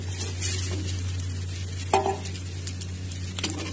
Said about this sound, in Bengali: চিকেনগুলো দিয়ে একটু নাড়াচাড়া করব।